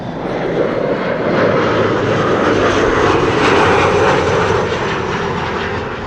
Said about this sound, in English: That's an Embraer 175 that you hear arriving from Bremen.